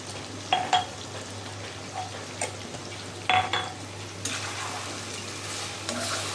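Homemade panch phoron spices hit hot oil in a pan for a carambola pickle, giving a constant close sizzle under a low hum, broken by several sharp clinks and scrapes of a spoon stirring against the metal pan.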